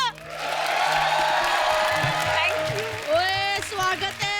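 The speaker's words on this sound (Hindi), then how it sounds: "तालियां बजा दो।" A studio audience at a comedy show claps and cheers, a broad burst of applause that swells and holds, then fades as voices and laughter rise over it.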